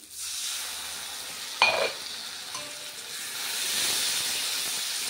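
Ground spice paste sizzles steadily in a pan, with a sharp burst of hissing as a little water from the grinder jar is added, then settling into a continuous frying hiss.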